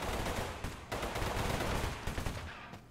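Rapid automatic gunfire from a hard-kicking gun in the battle royale game Totally Accurate Battlegrounds, loud and nearly continuous bursts of shots lasting about three seconds with no talking.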